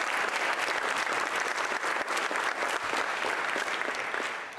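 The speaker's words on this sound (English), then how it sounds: "So please clap for yourself." Audience applause in a hall during a keynote, a dense, even wash of many hands clapping that holds steady and fades slightly at the end.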